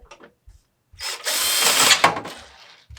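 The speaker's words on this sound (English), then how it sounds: "So we're going to go ahead and drill this quick." A power drill whines up to speed and bores through metal on a 2005 Jeep Wrangler Unlimited during control arm work for about a second and a half, loud and close, after a few faint clicks, then winds down.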